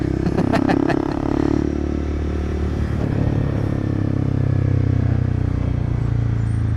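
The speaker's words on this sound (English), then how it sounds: "Children's motorbike." A Kawasaki Z125 Pro small motorcycle rides past close up, its engine droning steadily with a low buzzing tone, rattling clatter and brief sharp ticks at the start, loud and continuous throughout.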